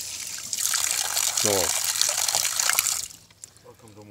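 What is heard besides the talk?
water washing sand off a roller ski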